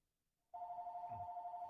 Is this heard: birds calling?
no